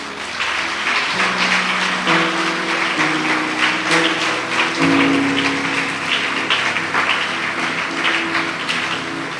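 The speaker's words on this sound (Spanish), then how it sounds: "Dale un fuerte aplauso a Dios" Congregation applause in a church rings out steadily for several seconds, dense and fairly loud, with sustained musical tones running underneath.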